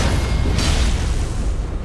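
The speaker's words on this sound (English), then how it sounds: "he's just using one of the fire mace thingies" A fire mace attack lands in the fantasy action game Elden Ring as a deep, booming blast with a continuous loud, rumbling roar that holds steady for about two seconds.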